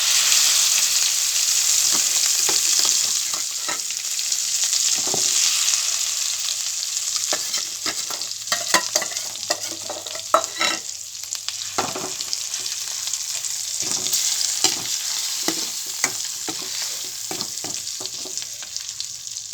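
Mint leaves fry in hot oil in a pan for a South Indian chutney tempering, giving a close, steady sizzle broken by scattered crackles and stirring scrapes.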